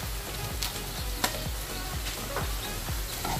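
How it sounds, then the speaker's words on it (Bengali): Tomatoes go into a hot pan of sizzling vegetables, with a steady frying hiss and a regular series of spoon scrapes and taps, close and without talk. "এবার এতে টমেটো গুলো দিয়ে দিচ্ছি।"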